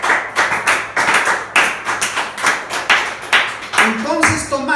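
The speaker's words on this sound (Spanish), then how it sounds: "Vamos a aplaudir." A church congregation claps together in a steady rhythmic beat, loud and close, with a brief musical or vocal tone entering near the end.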